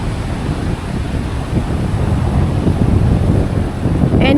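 Atlantic Ocean surf on the Outer Banks of North Carolina rolls in a constant loud roar while strong wind buffets the microphone, swelling slightly toward the end, with no one speaking.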